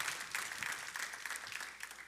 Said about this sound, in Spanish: Dale un fuerte aplauso al Señor en esta mañana.